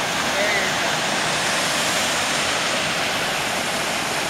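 Argyle Waterfall in Tobago pours in a continuous, loud, broadband rush of falling water, steady and close with no breaks.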